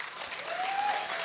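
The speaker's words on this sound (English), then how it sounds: "Ladies and gentlemen, a round of applause for Richard Spagnuolo!" Crowd applause at a Muaythai fight night, a dense wash of clapping filling the hall steadily throughout, loud and close with no talk over it.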